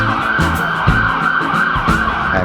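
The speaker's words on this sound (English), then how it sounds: "Ambulance." An ambulance siren wailing in a street in Hebden Bridge, loud and close with a steady rising-and-falling tone over traffic noise.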